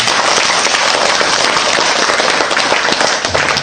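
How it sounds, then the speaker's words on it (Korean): Listeners at a Korean Buddhist monk's dharma talk break into applause. The clapping is loud, dense and unbroken, a close wall of many hands striking at once from start to finish. "우리 박수 한번 쳐야지."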